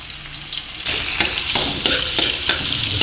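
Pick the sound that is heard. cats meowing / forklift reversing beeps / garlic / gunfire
garlic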